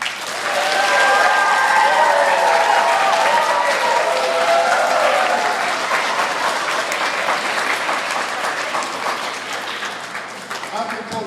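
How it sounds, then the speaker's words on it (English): A school audience gives a loud, dense round of applause for the coaches. The clapping is sustained and slowly fades over several seconds, with crowd noise mixed in. "give the coaches another round of applause"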